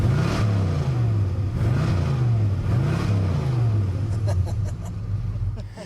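A Plymouth Grand Fury's 440 V8 engine revs up and down in rising and falling swells, loud and close, with a voice briefly under the rumble.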